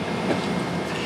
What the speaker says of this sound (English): and trains actually go through them.